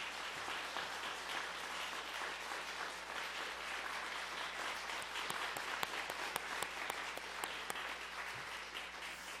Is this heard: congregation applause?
yes